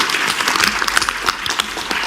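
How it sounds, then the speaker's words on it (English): Round of applause from an audience at a Freedom Day event panel, a short burst of lively clapping with some individual sharp claps standing out from the mass. "I had to give her a round of applause for that."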